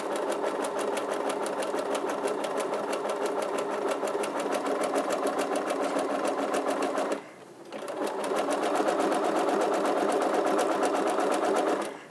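A sewing machine runs fast and steadily while stitching a fabric bowl, a dense rapid mechanical chatter that stops briefly midway and then resumes at full speed.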